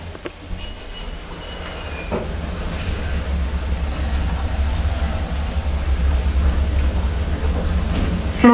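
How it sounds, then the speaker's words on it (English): A lift climbs in a steady, continuous low hum and rumble that swells slightly as it rises, with faint clicks and no voices. "Going up."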